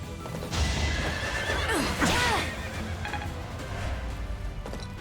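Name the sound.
horses neighing in a video game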